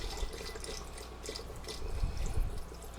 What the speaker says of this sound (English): I'm going to pour probably about a cup in here.